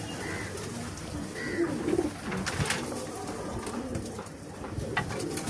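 Soft low cooing from a group of feather-footed female black diamond pigeons, steady overlapping murmurs close by with a few louder coos near the middle, no voices.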